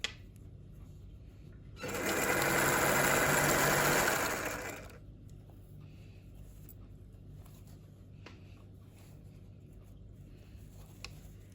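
A sewing machine stitches fabric pieces together for a scrunchie in one close, steady run of about three seconds, followed by quiet room tone with faint handling noises.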